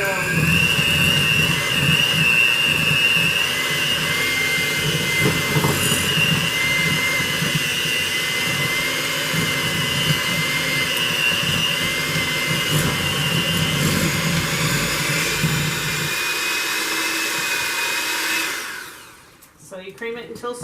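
An electric mixer creams room-temperature butter for a lemon cake, a loud continuous whirring drone with a steady motor whine that holds for most of the stretch before cutting off near the end.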